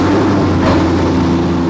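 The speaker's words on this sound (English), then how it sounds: "I'm dying to hear that V8 rumble again." A steady, deep V8 engine exhaust rumble from a rebuilt car, a throaty low drone, loud and continuous throughout, no voices.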